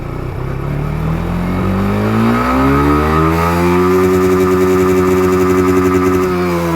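A Suzuki Gixxer motorcycle fitted with a racing CDI revs hard, its engine note climbing steadily in pitch and holding a loud, sustained high-rev whine up close, with no voices.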